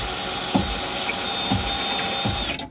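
Power drill boring a hole in a 2009–2013 Toyota Corolla front door for a speaker, a continuous high whine with a few brief bumps, then stopping abruptly at the end.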